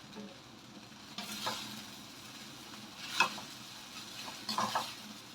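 Thai stir-fried noodles tossed with water mimosa in a pan give a soft, steady sizzle, broken by a few scraping stirs and light utensil clinks against the pan, with no talking.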